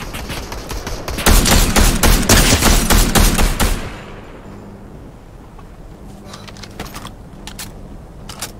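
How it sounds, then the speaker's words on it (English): Rapid gunfire erupts in a Fortnite match, a dense, loud burst of close automatic shots for a few seconds, followed by quieter scattered distant shots and light clicking. "Oh, we're being shot."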